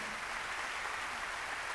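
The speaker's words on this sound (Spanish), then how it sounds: "Den un aplauso fuerte si es para Jesucristo." A church congregation applauds at a Latin gathering, a steady, even wash of clapping that sounds somewhat distant and muted, with no talk over it.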